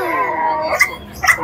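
A small dog whimpers in thin, high whines, then gives two short yappy barks close by, with faint voices around.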